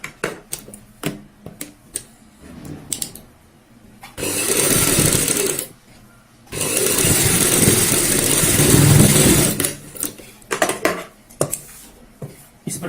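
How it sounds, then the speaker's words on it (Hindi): A sewing machine runs two steady bursts stitching a straight centre seam through fabric on a halter neck garment, loud and continuous, separated by brief pauses with handling clicks between them. "यहाँ पे एक सीधी सिलाई लगाएंगे सेंटर में"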